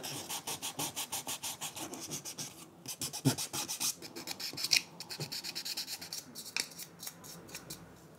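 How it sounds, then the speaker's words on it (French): Filler putty on a candle mold is sanded smooth by hand, giving a steady, rhythmic rasping scrape of close strokes that continues throughout with little else. "On va commencer à essayer de poncer"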